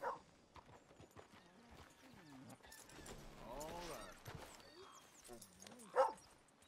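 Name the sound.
horse sounds in the video game Red Dead Redemption 2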